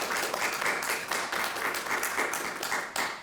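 Sustained audience applause at a candidates' forum, many hands clapping steadily at a moderate, even level with no talking.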